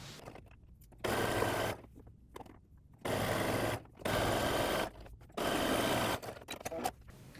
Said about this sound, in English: I'm going to flip this over to go through the machine, and I am going to stitch in the ditch here